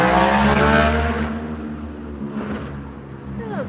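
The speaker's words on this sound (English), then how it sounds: "I'll just wait for that motorcycle to get past." A motorcycle passes by a home patio, its engine roar loud at first and then fading into the distance, with a rough, broad exhaust sound throughout.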